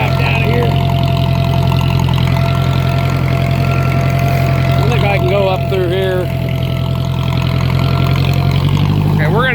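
A 2010 John Deere runs steadily throughout while being driven, its low engine drone loud and constant with harmonic whine above, a voice speaking briefly partway through.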